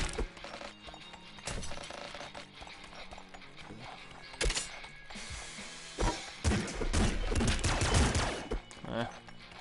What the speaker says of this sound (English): those like laser shots that you just heard, those do like insane amounts of damage